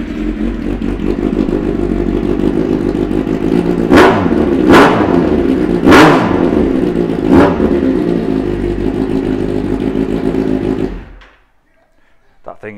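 A 2015 Kawasaki Z800 ABS motorcycle idles roughly up close and is blipped in four sharp revs before the engine cuts out to near silence. A voice talks over the idle.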